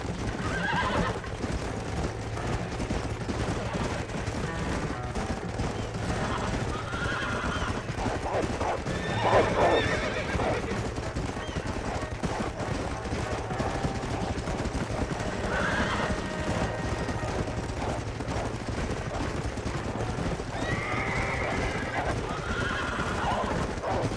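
Horses whinny several times over steady hoof clip-clops and a busy background bed, with occasional faint voices, in the video game Red Dead Redemption.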